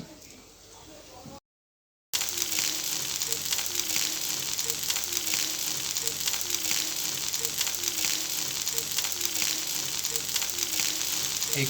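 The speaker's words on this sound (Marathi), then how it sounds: "दुसरी सेट फ्राय होते आहे" Sprouted moong cutlets frying in a pan, a continuous close sizzle with small popping crackles after a brief gap at the start, and a voice speaking quietly beneath.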